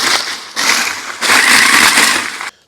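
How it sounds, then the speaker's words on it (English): A countertop blender flash-blending crushed ice for a cocktail, loud grinding bursts in three short pulses that cut off abruptly. "we're gonna flash blend for a couple of seconds"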